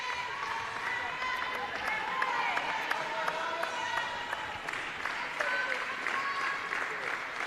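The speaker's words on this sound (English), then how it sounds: "The clap in unison goes up for New Zealand." Indoor cricket World Cup crowd clapping in unison for New Zealand, steady rhythmic claps repeating throughout at a moderate level, with a commentator speaking over them.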